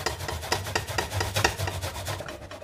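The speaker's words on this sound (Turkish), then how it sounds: "Rendenin en ince tarafıyla, bakın kalın tarafı değil, ince tarafıyla bir soğan hemen rendele." An onion grated on the fine side of a hand grater, rhythmic rasping strokes about four per second, close and fairly loud, with no talking.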